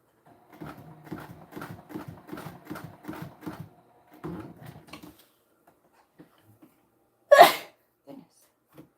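One sharp sneeze bursts out up close after a stretch of rapid rhythmic mechanical clatter from a sewing machine, then near silence with a few small clicks.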